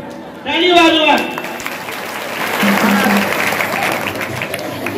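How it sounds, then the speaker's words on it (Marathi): Audience applause at a kirtan by a saptakhanjiri player, loud dense clapping that starts abruptly and holds steady, with a voice briefly heard over it. "टाळी वाजवा."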